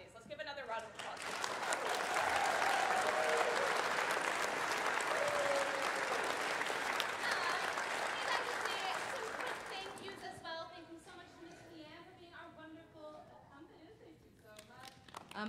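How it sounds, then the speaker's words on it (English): Elementary school audience applauding after a children's musical performance, clapping swelling quickly to a loud sustained roar, then tapering off as a voice begins speaking near the end. "Let's give another round of applause."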